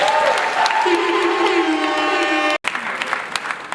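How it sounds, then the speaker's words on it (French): Audience applause at a ceremony handing out aesthetics training certificates: dense, steady clapping with sustained tonal sounds over it, a brief drop-out near the end, then clapping resumes. "je vous demande de faire des applaudissements"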